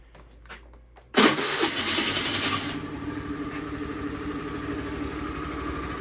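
After a second of quiet, a small Honda Dio scooter engine bursts into life with a loud crank and settles into a steady, buzzing idle.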